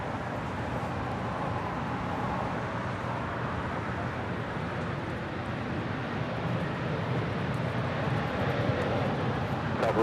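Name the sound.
Cayman Airways Boeing 737 MAX 8 departing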